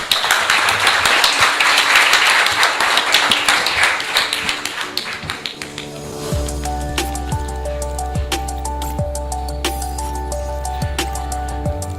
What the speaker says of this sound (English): Please give applause to the first speaker.